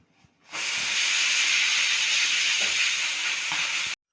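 A kitchen pressure cooker whistle lets off steam in one continuous loud hiss that starts abruptly after a brief quiet moment and holds steady for over three seconds before cutting off, with no talk over it.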